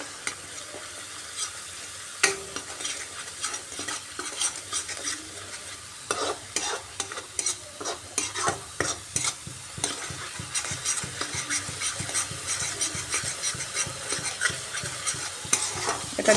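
Onions are sautéed in a pan with ginger-garlic paste for an egg and potato curry, giving a continuous sizzle under rhythmic scraping strokes from stirring that grow busier and more frequent as it goes on.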